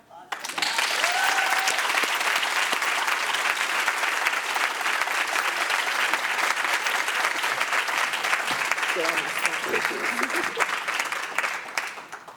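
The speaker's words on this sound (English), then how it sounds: "Another round of applause." Sustained, loud applause from a presentation audience fills the room steadily for over ten seconds before tapering off at the end.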